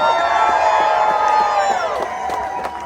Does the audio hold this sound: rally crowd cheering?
yes